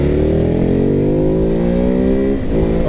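Ducati Hypermotard 950 motorcycle engine pulling hard under throttle, a loud, close, steady drone that rises in pitch through the rev range, with a brief dip near the end as the gear shifts, then climbing again.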